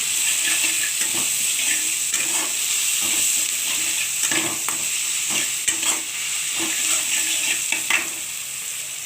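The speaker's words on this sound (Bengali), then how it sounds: "রসুনটা এবার এটার জন্য ভেজে নেব" Garlic frying in a pan with animal fat nearby, a continuous bright sizzle with scattered crackles and scraping stirs throughout, fairly close and steady, no voices.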